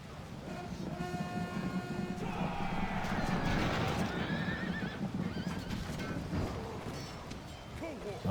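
Horses neigh and whinny repeatedly in a Rome: Total War battle, loud over clattering hooves and a dense din of fighting and crowd noise.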